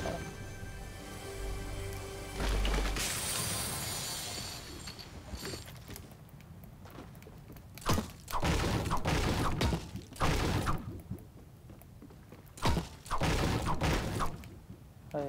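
A treasure chest opening in Fortnite gives a shimmering, rising tone, then a run of mechanical clicks, creaks and thumps that come and go in short, close bursts.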